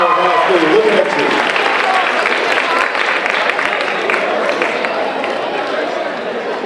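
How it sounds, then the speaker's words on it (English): A school audience at a high school Black History program applauds loudly and steadily, a dense, continuous wash of clapping with crowd noise and cheering that stays strong throughout. "Give them another round of applause, please."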